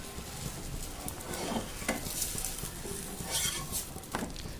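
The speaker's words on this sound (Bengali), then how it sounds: "ততক্ষণে আরেকটা পরোটা আমি সেঁকে নিচ্ছি।" A layered paratha cooks on a hot pan, giving a steady sizzle and crackle with repeated stirring and scraping sounds, no voices.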